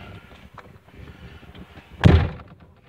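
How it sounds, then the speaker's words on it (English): A pickup truck door slams shut once, a loud close thud near the mic about two seconds in, after a stretch of quiet background rumble. "That door we have to slam, this one we don't."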